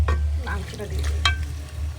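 Chicken meat fries in a hot pan while being stirred, giving close sizzling with scraping and stirring clatter over a low background hum, and no one speaks.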